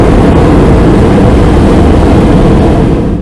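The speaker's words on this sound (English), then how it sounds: "Peppa, George, Mummy and Daddy Pig flew on an aeroplane" An aeroplane flies past as a storybook sound effect, a loud, steady engine roar with rumbling low end that holds constant before fading slightly at the very end.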